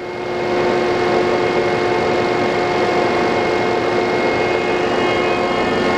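A Landis 10 by 36 inch universal I.D./O.D. cylindrical grinder running steadily. It gives off a loud, continuous hum with a tonal whine and a hydraulic drone that builds up in the first half second and then holds level.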